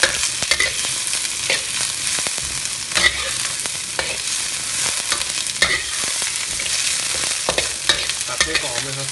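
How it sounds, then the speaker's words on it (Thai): Garlic chives and garlic stir-frying in a wok, a steady dense sizzle with repeated scraping and tossing strokes from the spatula, close and continuous with no voices. "ผัดให้หอมเลยครับอย่างนี้หอมมากๆหอมกุยช่ายขึ้นมาครับ"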